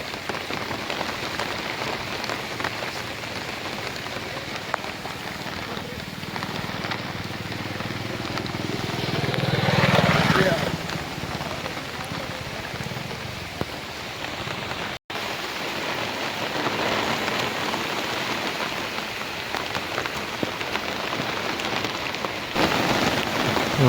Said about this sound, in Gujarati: હારા વરસાદ આવી ગયો.